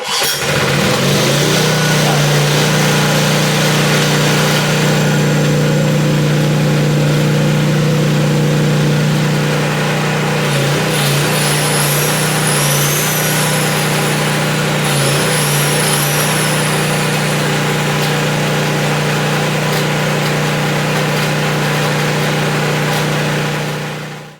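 A vintage Honda generator engine runs steadily from start to finish, a loud, close, even drone with a strong low hum, with a few faint whistling tones partway through.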